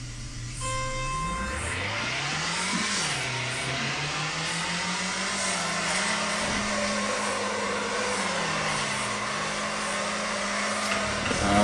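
A race car drifts around Irwindale Speedway in the FR Legends game, its engine climbing in pitch, dipping, then holding a sustained high rev with wavering pitch as it slides, loud and continuous with no talk.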